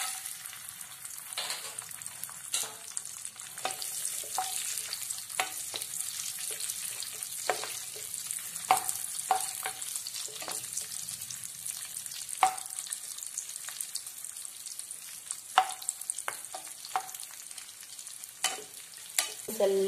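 Raisins sizzling and crackling in hot ghee, a steady bright frying hiss with scattered pops and occasional stirring clicks, close and continuous throughout.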